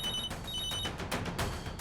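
A telephone bell rings in repeated short trilling bursts, moderately loud and alone with no talk.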